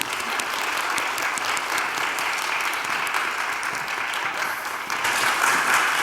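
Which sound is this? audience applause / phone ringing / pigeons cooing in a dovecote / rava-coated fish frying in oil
audience applause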